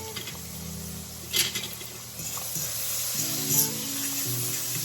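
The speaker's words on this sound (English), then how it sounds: "Sizzle." Cabbage and bok choy sizzle in a hot pan with a steady frying hiss, a few sharper spits and crackles rising over the top, and a faint background hum.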